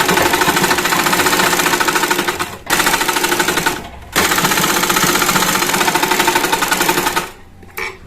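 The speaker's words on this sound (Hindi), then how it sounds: "अब हम इसको सेंटर स्टिचिंग एक लगाना है।" A sewing machine stitching the centre seam of a palazzo, loud rapid mechanical chatter in long continuous runs broken by two brief pauses, close up with no voices.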